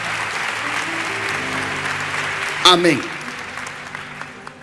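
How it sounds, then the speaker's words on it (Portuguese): A church congregation applauds, a sustained crowd clapping under a spoken word and a brief rising tonal sound midway, fading toward the end. "Pode aplaudir ao Senhor"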